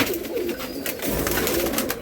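A pigeon coos softly against a steady wash of outdoor noise, a low, throaty murmur that carries on through the whole stretch.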